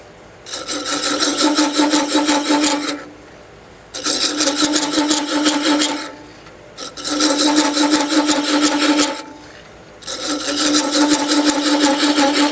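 Four long, raspy scraping passes from a chisel chasing threads, alternating between hardwood and softwood, separated by short pauses, loud and close with no voices.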